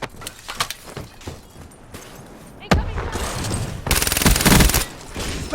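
Rapid gunfire from the video game Black Ops 3: bursts of shots, then a loud sustained burst of machine gun fire near the end.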